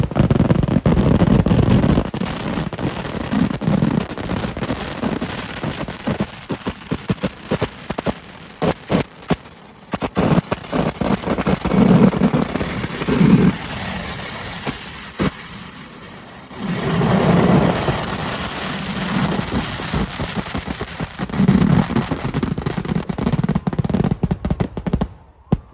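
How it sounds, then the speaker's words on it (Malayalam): Daytime fireworks at the Kavassery Pooram temple festival in a Palakkad village, a long barrage of sharp, rapid explosive cracks and booms, loud and dense in bursts with brief lulls and a steady high whine behind. "അങ്ങനെ ഏറെ നേരത്തെ കാത്തിരിപ്പിന് ശേഷം കാവശ്ശേരി ദേശത്തിൻ്റെയും വെടിക്കെട്ട് തുടങ്ങി"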